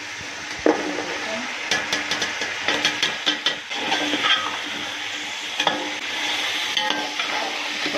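Beef frying in a pot while being stirred, a continuous loud sizzle broken by frequent scraping clatters of the spoon against the pot.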